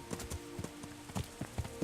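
Horse hooves clopping in Kingdom Come: Deliverance, a quick, even series of light hoof strikes close by, soft and steady over a quiet game background.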